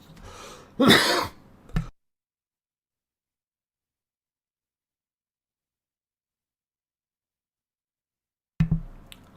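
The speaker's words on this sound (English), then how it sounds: "Well, that cough snuck up on me." A single harsh cough near the start, followed by long silence and a short throat sound at the end.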